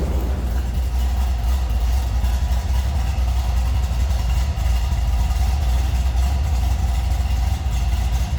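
A 1959 Chevrolet Apache 3100 pickup engine idles steadily with a deep, even rumble, loud and close, unchanging throughout with no voices.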